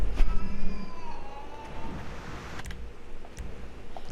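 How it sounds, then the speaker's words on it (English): An angry cat yowls in the GTA video game, a few drawn-out wavering cries up front that fade into a low rumbling background, with sharp ticks near the end. "Angry cat, eh?"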